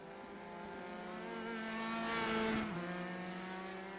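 Simulated race cars circling a track in an iRacing series race, a steady engine drone with harmonics that rises slightly and drops in pitch as a car passes, fairly faint and with no talk.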